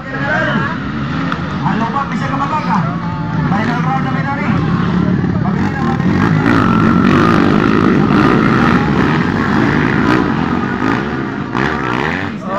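Several enduro motorcycles race in the final round of a local enduro event, their engines droning loudly and continuously with revving surges throughout, a commentator's voice running over the noise.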